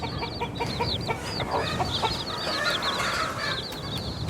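Hens clucking in a farmyard, a busy overlapping chorus of short calls and chirps that runs steadily throughout, with no one speaking.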